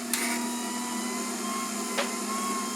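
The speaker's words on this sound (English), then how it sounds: "I'm going to be using a KitchenAid mixer" A KitchenAid stand mixer runs steadily while mixing pizza dough, a constant close motor whine with a faint clink partway through.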